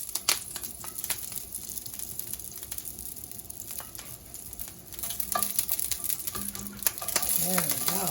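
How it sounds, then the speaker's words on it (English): Garlic scapes, the curly ones among them, sauté in a smoking-hot pan with a steady, close sizzle and bursts of crackle as they are stirred, running without pause throughout. "And these I'll saute for about, maybe about a minute."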